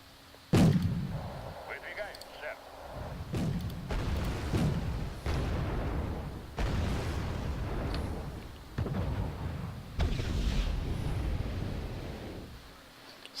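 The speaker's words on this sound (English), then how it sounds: "Oh, taking a lot of fire over here." Battlefield combat in the Wargame AirLand Battle video game, with repeated loud booms of artillery and bursts of gunfire arriving in heavy waves, while someone talks over the noise.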